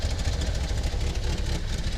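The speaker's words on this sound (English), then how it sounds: "running the motor now to make sure all the sensors and everything works correctly" The engine of a 1985 Volkswagen Vanagon Westfalia runs close by after cooling system repairs, a loud, steady idle with a rough, pulsing low rumble and no speech.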